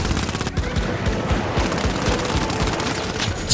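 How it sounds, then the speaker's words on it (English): Sentry turrets firing in the video game The Finals, a loud, rapid, continuous burst of automatic gunfire with evenly spaced shots, close and dominant throughout the clip. "the sentry turrets are kind of ridiculous"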